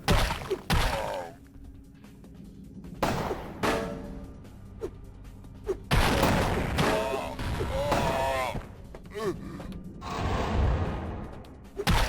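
Shotgun fire in Vampire: The Masquerade – Bloodlines, several loud, sharp blasts spaced irregularly among game combat noise, grunts and clatter.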